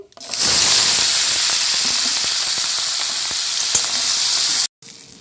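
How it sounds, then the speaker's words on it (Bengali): Prawns dropped into hot mustard oil in a wok, erupting into a loud, close, continuous hissing sizzle with crackling spits that holds steady before cutting off abruptly near the end. "তেলটা গরম হয়ে এসছে এবার এর মধ্যে আমি চিংড়ি মাছগুলোকে দিয়ে দেব"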